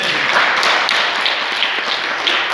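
A crowd applauds for the Lord, a loud, dense and continuous wash of clapping that fills the whole moment without pause.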